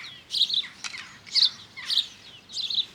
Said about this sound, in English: All these little birds are distracting me because they're sticking their heads out, look.